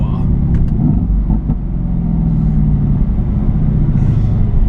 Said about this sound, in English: The bi-turbo V8 rumbling out of the back, rear wheel drive, instant power.